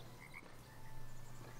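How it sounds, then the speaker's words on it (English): Frog croaking in the city-building game Foundation, a steady low pulsing croak repeating under quiet ambient game sound, fairly faint and continuous throughout. "I heard frog"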